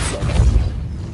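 A Depulso force spell blasts out in Hogwarts Legacy on PS5, a short whooshing burst with a low rumbling thump that fades within about a second.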